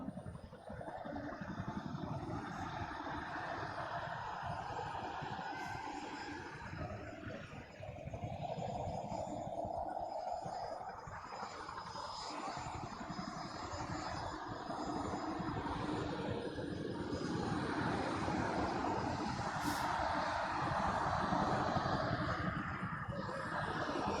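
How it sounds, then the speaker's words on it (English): A large propeller aircraft drones at an airshow in Gatineau, Canada, a faint, steady distant engine hum over open-air ambience without a clear pass. "Look at the size of those props, they're fucking huge."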